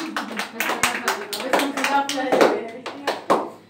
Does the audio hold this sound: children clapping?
yes